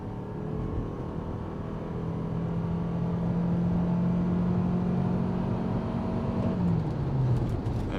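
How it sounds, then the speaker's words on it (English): 2025 Toyota RAV4 XSE Hybrid accelerating hard in sport mode, a steady droning engine and road noise heard from inside the cabin, with the engine note rising and holding, then dropping near the end. "I'm going to punch it here in sport mode"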